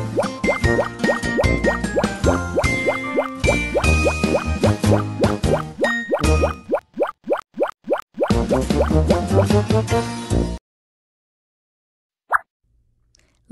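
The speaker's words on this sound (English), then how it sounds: "Help Star wash his face." Cartoon water effects accompany a children's bedtime game where a star washes his face: a rapid run of bright bubbly plops and gurgling pours, loud and close, thinning into separate drips before a brief silence and a final plop.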